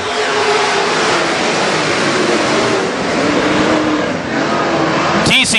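WISSOTA super stock race cars roar around the Granite City Speedway track, a loud continuous engine drone from several cars running side by side, with a sharp burst of noise at the very end.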